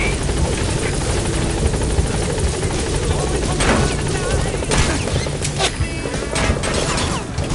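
A helicopter in Metal Gear Solid V roars loud and constant with thumping rotor noise, while game radio voices talk over it and a few impacts sound.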